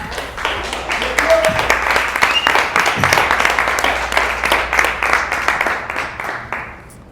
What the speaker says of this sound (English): So please give a big applause.